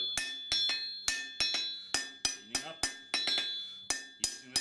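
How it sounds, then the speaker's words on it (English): Small, light hammer blows on a hot steel knife tip at the anvil, a dozen or so sharp ringing clinks in an uneven rhythm, each with a bright metallic decay, close, with brief talk. "Small light hammer blows."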